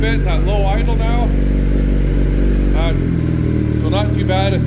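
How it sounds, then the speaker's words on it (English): Loud low idle of a warmed-up 2024 Kawasaki Z900 motorcycle with a full M4 exhaust, rumbling steadily, dropping lower near the end, with someone talking over it. "Alright, so it's warmed up a bit. It's at low idle now."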